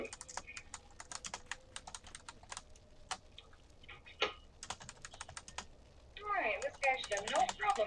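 Rapid keystrokes rattle on a computer keyboard in quick irregular bursts with short pauses, close and fairly crisp; a voice comes in near the end over the last taps.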